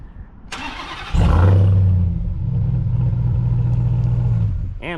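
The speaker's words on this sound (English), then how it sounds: "let's hear it start up" A 2023 Ram TRX pickup truck fires up with a starter crank and a sudden loud engine catch, then settles into a deep, steady, rumbling idle up close.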